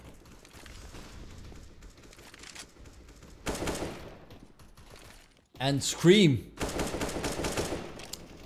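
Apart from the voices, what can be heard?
gunfire from wall bangs in video game CS:GO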